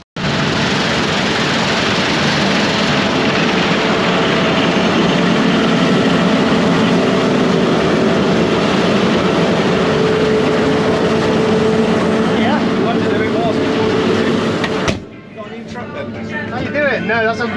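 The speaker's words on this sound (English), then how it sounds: "These old tractors, they just, they make a hell of a noise." A heavy old tractor engine roars loudly and steadily for about fifteen seconds during a farm harvest, then cuts away abruptly to quieter background noise.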